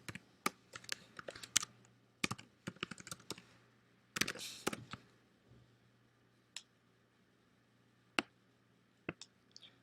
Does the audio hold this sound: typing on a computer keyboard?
yes